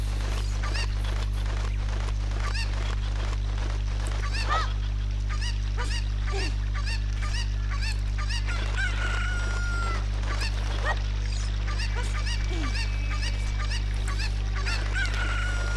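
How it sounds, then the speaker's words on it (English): Chickens in the video game Zelda Master Quest crow, cluck and squawk repeatedly in short bursts over a steady low background hum, with no talking. "Traumatize the chicken."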